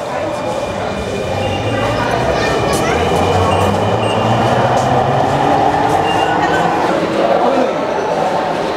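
A Dhaka metro rail station at a steady loud roar, with a train rumbling and humming continuously through the whole stretch and a slight rise and fall in pitch.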